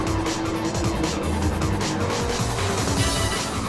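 Madison Palmer's 1969 Camaro Z28 race car drives the Blue Moon Bay infield circuit in a racing game. Its engine roars steadily and loudly throughout, with tire squeal mixed in.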